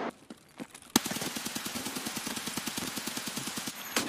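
Rapid automatic gunfire in Escape from Tarkov, a steady burst of evenly spaced shots running nearly four seconds after a few scattered single shots, loud and close.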